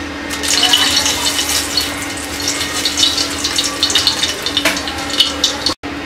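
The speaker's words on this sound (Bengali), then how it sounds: "তেলটা গরম হয়ে গেছে, এবার আমরা এর মধ্যে 3টা শুকনো মরিচ ছিঁড়ে দিয়ে দিচ্ছি।" Three torn dried red chilies hit hot oil in a pan, giving a loud, steady sizzle with crackling pops that runs throughout before a brief cut near the end.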